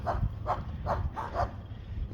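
Two small dogs barking somewhere in the distance, a quick run of five or six faint yaps at a steady pace over a low rumbling background.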